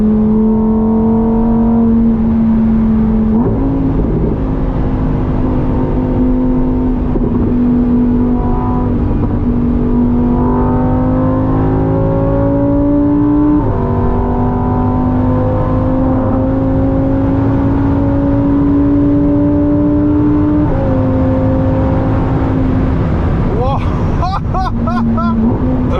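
A Lamborghini Huracan EVO Spyder V10 engine drones steadily for a long stretch on the autobahn, its pitch climbing in several stepped gear changes, loud and close.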